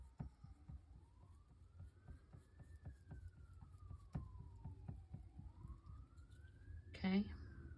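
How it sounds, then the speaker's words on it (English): Distant emergency vehicle siren, likely an ambulance or fire truck in a rural area, faintly wailing up and down in slow sweeps beneath nearby tapping and handling noises. "Oh, I hear a siren."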